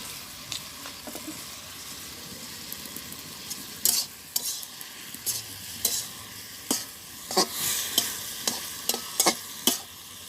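Fish sizzles and fries in a pan in a village kitchen. A steady, quiet crackle runs under repeated sharp scrapes and stirring clatters from a utensil working the pan.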